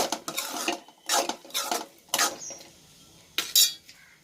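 A ladle mashing boiled potatoes together with green peas in a pan for a green peas kurma, giving several bursts of scraping and clinking metal, close and moderately loud, separated by short pauses.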